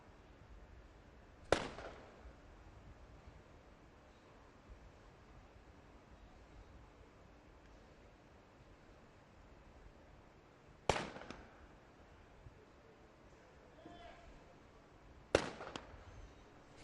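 Three sharp sniper rifle shots ring out several seconds apart at a SWAT challenge shooting range, each one a distant crack with a short echo over faint background noise.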